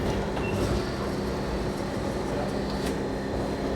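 Paris metro train running, a steady loud rumble and hiss of the carriage in motion that fills the whole stretch with constant noise and no clear pauses.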